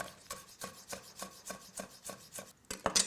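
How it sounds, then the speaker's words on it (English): Knife chopping garlic on a board: a quick, steady series of about a dozen close, crisp thuds, evenly paced and moderately loud, ending in a couple of sharper knocks, with no speech. "Now I need to chop the garlic."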